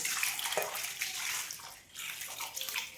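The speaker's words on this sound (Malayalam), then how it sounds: "ഇതൊന്ന് മുങ്ങത്തക്ക രീതിയിൽ ഒന്ന് ഒഴിച്ച് വയ്ക്കുക" Warm water pours steadily over shark meat in a container, a close splashing rush that briefly dips before continuing.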